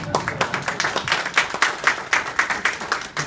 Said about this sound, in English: So applaud yourself. Go ahead and applaud yourself.